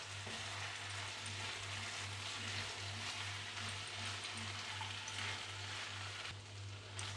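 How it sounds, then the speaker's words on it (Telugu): Raw banana slices frying with salt in a pan make a faint, continuous hissing sizzle over a steady low electrical hum, fairly quiet and with no voices. "ఉప్పు వేసుకొని ఒకసారి బాగా ఫ్రై చేసుకుందాం"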